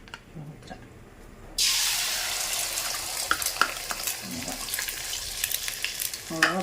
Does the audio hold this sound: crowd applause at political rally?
no